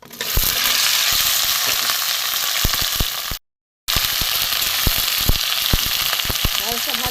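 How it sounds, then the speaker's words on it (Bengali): Okra frying in mustard oil in a wok gives a loud, steady sizzle that runs throughout, with scattered crackles and pops and a brief dropout near the middle. "ঢ্যাঁড়সগুলো আমি প্রথমে ভেজে নেব।"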